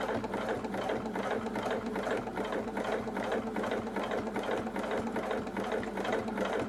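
A sewing machine running steadily, its needle stitching through fabric and interfacing in a continuous rhythmic mechanical clatter, close and alone without any talk.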